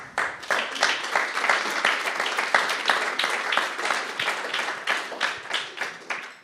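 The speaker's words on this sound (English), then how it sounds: "That was a hell of a clap." A live talk-show audience at the Danube Institute breaks into sustained, dense applause that swells and dips in waves for several seconds before tapering off.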